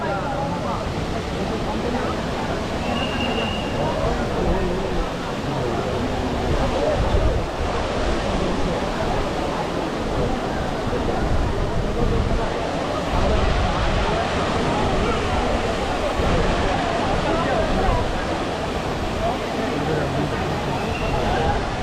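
Water from the Trevi Fountain in Rome splashes and rushes steadily alongside the murmur of a packed tourist crowd, a dense continuous wash of noise throughout with voices mixed in.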